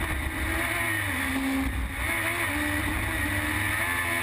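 Formula Gulf 1000 race car on a circuit, a loud continuous engine whine rising and falling with gear changes as it drives past, without talk.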